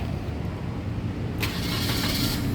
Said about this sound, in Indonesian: berikutnya baru kita coba nyalakan mobil